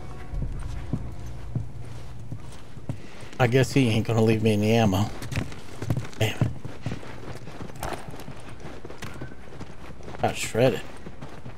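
Horse hooves clip-clop in The Last of Us Remastered, at Tommy's Dam. The hoofbeats stay soft in the background while someone talks over them, with a few sharper knocks in between.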